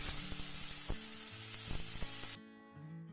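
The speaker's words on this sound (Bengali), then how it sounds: "আদা লঙ্কাও ভেজে নিলাম" Ginger paste and green chilli fry with cumin seeds in hot oil, giving a steady, close, dense sizzle with a few sharp pops. The sizzle cuts off abruptly near the end and leaves a faint tonal hum.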